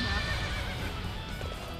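A horse in Warriors Orochi 3 gives a shrill, loud neigh over the rapid clip-clop of galloping hooves, continuous across the short moment.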